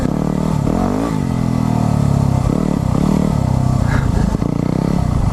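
A new motorbike's engine revs continuously and loudly up close, rising and falling in pitch with clattering mechanical noise throughout.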